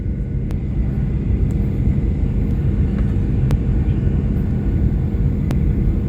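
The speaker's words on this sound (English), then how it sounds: "this is like Stockholm Arlanda airport where we landed" Steady, loud low cabin rumble of a Norwegian Air airliner landing at Stockholm Arlanda airport, a dense continuous roar with faint sharp ticks at intervals and no talking.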